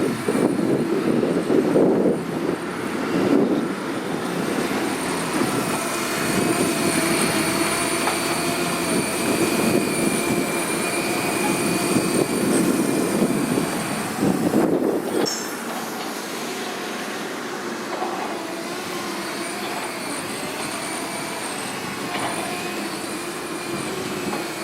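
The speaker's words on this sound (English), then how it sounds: "bit of a flight with the 200QX" A Blade 200 QX RC quadcopter flying, its small motors producing a steady high whine with tonal harmonics that rise and shift as it maneuvers, loud and continuous before easing to a softer drone partway through, no talking.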